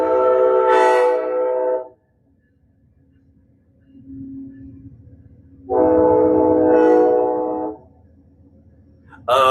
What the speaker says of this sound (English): my train is going to go by.